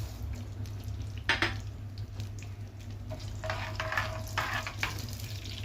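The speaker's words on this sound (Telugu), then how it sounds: "ఆవాలు కూడా ఇలా చుట్టుపక్కల ఆడుతుంది కదా, వేగుతుంది కదా" Mustard seeds and tempering spices sizzle and pop in a generous amount of hot oil for a pickle, a quiet steady fry with a few scraping stirs of a spoon against the pan.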